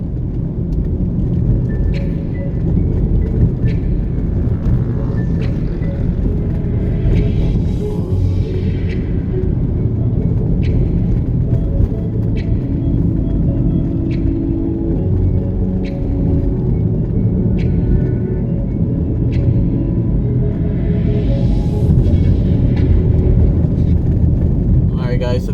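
A car driving along Bernard Lodge Main Road toward Caribbean Estates in Portmore, St. Catherine, heard from inside as a steady, loud engine and road rumble throughout, with a few faint clicks over the drone.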